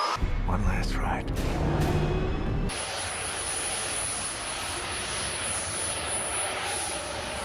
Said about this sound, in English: Dark Star is taking off.